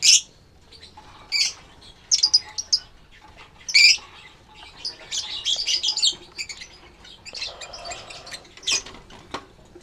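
African lovebird chicks let out sharp, high chirps and squeaks in scattered bursts while being taken from the nest, close and fairly loud with quiet gaps between calls.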